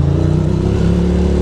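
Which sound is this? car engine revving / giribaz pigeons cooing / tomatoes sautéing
car engine revving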